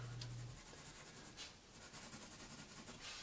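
A pencil is drawn lightly across paper in a scratchy zigzag line to outline a baby penguin, making a soft, steady, continuous scratching close by.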